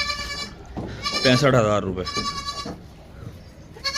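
Goats offered for sale bleat loudly and close by, a wavering, nasal cry in the middle of the clip, with someone speaking before and after it.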